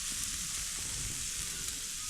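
Meat, including premium pork loin, sizzling as it grills over a campfire at a family campsite with a dog run, a steady, close hiss and crackle running continuously with no talking.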